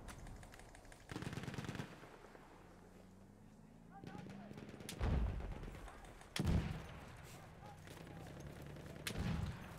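Battlefield 1 battle din: heavy artillery bombardment with repeated booming impacts and bursts of machine-gun fire, some blasts close and loud, others distant, under intermittent voices.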